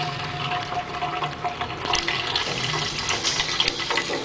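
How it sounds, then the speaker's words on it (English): Tap water pouring into a container while mixing homemade dishwashing liquid, a steady splashing gush that continues throughout, fairly close and with no voices. "tap water."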